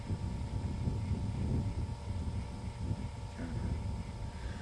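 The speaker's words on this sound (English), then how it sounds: "here comes the wind" Steady wind gusts buffet the microphone outdoors during fly fishing, a continuous low rumble that swells and eases across the clip with no other clear sounds.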